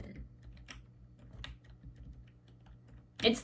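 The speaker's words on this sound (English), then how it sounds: "another problem with my keyboard is like the up and right arrow keys are a little like stuck" Computer keyboard arrow keys, some of them partly sticking, are pressed in a sparse series of soft clicks and taps, ending in a louder clack.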